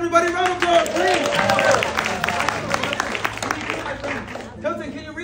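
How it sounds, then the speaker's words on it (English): A small crowd at an immersive Sleepy Hollow cocktail experience in Atlanta claps and cheers for a guest, lively applause with whoops and a few voices calling out over it, fading near the end. "Round of applause, please!"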